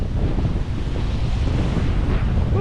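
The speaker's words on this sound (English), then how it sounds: "this wind is not helping" Strong sea wind buffets the microphone on a spring fishing trip on the Massachusetts coast, a loud continuous roar with surf washing underneath and no voices.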